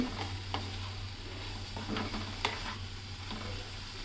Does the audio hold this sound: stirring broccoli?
yes